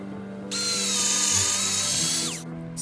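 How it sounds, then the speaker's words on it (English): Power drill whines at high pitch as it bores a hole through hard pallet wood, running steadily for about two seconds with a slight dip mid-run before winding down. "now I'm going to make a hole with my drill"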